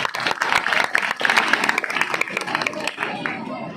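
An audience at a school annual function applauds the children with dense, steady clapping from many hands, sustained throughout with crowd noise mixed in.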